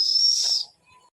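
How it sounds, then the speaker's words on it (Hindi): A pressure cooker cooking dal on a stove lets out a single shrill, steady whistle for about half a second, then falls quiet apart from faint traces. "सीटी मारे का मतलब है बतावा था कि दाल तोहार पकी गई बा"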